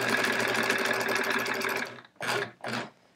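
A sewing machine stitches a quilt border at a short stitch length, a close, steady whirring hum for about two seconds, then two brief separate bursts of stitching.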